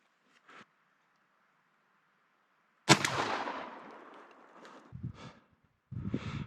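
One loud, sharp blast from the top barrel of an over-under shotgun firing a Black Cloud Steel 2-shot shell through a modified choke, echoing and fading outdoors. Light handling noises follow.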